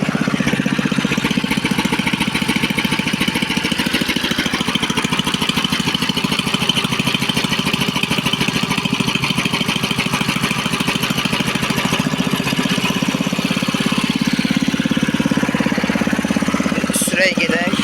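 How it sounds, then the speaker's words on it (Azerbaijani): An engine idles steadily while warming up, a close, loud, continuous rough chugging with a fast even rhythm for the whole stretch, no voices over it. "Motoru kızsın koy."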